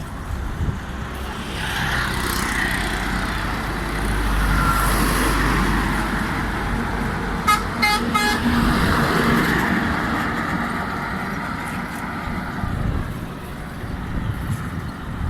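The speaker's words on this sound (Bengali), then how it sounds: "একটার পর একটা গাড়ি আসতেই আছে" Busy road traffic as cars and trucks pass one after another, engines swelling and fading nearby, with a short burst of repeated horn honks in the middle.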